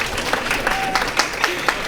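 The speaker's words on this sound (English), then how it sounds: "This is the part where you're supposed to clap." An audience at the 35th anniversary Phoenix Awards ceremony, held by Citizen Action in 2022, gives a short burst of scattered, uneven clapping with a few sharper individual claps.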